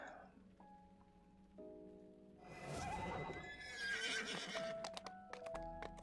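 A horse neighs and its hooves clip-clop in a video game, with the whinny rising clearly over steady ambient background noise and the footfalls continuing near and fairly loud.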